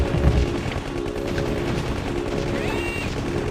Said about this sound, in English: And shoot the old machine gun all day long.